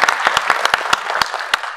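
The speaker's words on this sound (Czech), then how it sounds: "Tak teď se čeká aspoň malý potlesk" A small audience claps at a company presentation, sparse and uneven, with distinct loud individual claps standing out over a thinner patter of hands, close and fairly loud.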